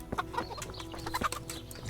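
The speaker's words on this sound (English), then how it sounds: "there are chickens." Chickens clucking in Kingdom Come: Deliverance, a flurry of short close clucks and squawks in quick irregular bursts, fairly loud with no talk over them.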